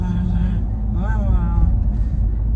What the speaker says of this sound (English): don't know what this car is doing